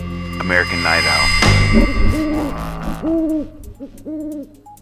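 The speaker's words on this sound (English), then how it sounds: "American Night Owl." An owl hoots in a series of clear, fairly loud calls, close and mostly on its own, with a voice briefly at the start.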